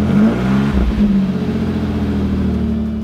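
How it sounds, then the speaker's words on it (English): A stock 1991 Pontiac Firebird V6 engine revs once, loud and close, then holds a steady mid-pitched drone before easing slightly. "with one last rev of the stock configuration"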